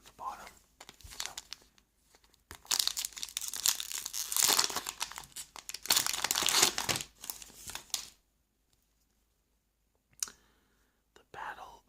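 A Star Wars booster card pack wrapper is torn open and crinkled in bursts of sharp, close plastic tearing and crackling, with quiet pauses between them and soft whispered speech.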